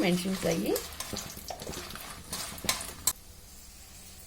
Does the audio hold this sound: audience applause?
no